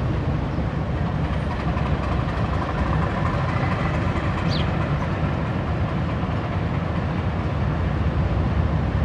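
Alco PHA-20 locomotive 8321 leads the Pakistan Express into Faisalabad station, a steady, loud rumble of the train rolling in with continuous rail and engine noise throughout.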